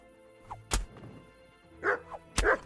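A dog barks in the medieval video game Kingdom Come: Deliverance, with a few short barks and yips mixed with thumps and game ambience at moderate loudness.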